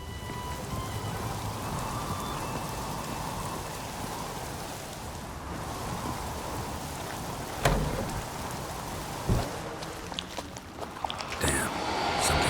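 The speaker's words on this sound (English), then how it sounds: "Looks like rain." Steady rain hissing down in The Witcher 3, a continuous wash of falling drops with a few sharper crackles and rumbles of thunder toward the end, no voices over it.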